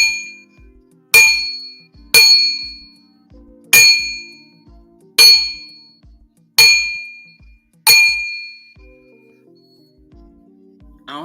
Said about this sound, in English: We start off with a little bit of of my singing bowls.